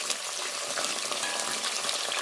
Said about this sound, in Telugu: ఇప్పుడు ఇవన్నీ కూడా కొంచెం దూరగా వేగాలి